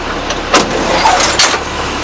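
A 2004 Blue Bird International 3800 school bus drives forward, its engine giving a loud, steady roar with a few brief rattles and knocks on top.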